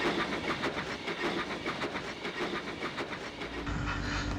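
A steam train engine pulls away with rhythmic clickety-clack from the wheels on the rails and a background hiss of steam, a steady repeating beat that continues throughout at moderate loudness.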